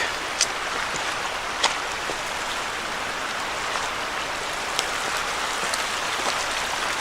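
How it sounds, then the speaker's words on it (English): Middle Creek in spring: a steady, broadband rush of flowing water fills the scene evenly, with a few faint clicks and ticks scattered over the constant wash. "Here right below us is the stream."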